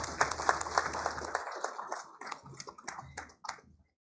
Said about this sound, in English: A big round of applause and congratulations to all the proud winners.